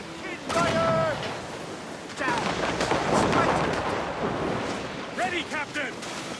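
Cannon fire during a naval battle in Assassin's Creed Rogue, with deep booming blasts over rushing sea and wind, while voices shout orders.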